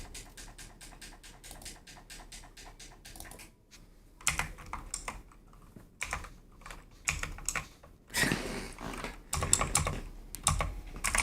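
Rapid clattering keystrokes on a computer keyboard, close and quiet, in bursts with short pauses between runs of typing.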